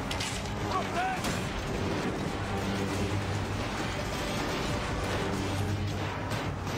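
Ship cannons fire in a naval battle in Assassin's Creed Origins, with dull booms and mechanical clatter inside a dense, steady wash of battle noise and shouting crew voices.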